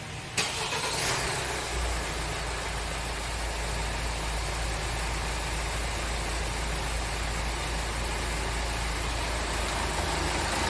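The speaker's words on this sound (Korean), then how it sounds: "자, 시동 걸어보세요." A car with a Hyundai R diesel engine cranks and fires up, then settles into a loud, steady idle that drones on close and unbroken for the rest of the clip.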